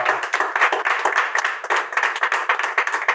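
An audience applauds at a civic gathering, with rhythmic, close clapping that sounds partly in unison and keeps a fairly steady pulse throughout.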